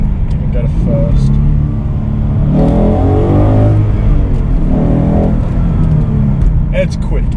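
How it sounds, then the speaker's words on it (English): A 400-horsepower naturally aspirated V8 car driving and downshifting to second and then first, its engine rumble rising and falling in two revving swells, close and loud under steady talk. "So as we putt along here, you know, we can downshift to second, and you can go to first."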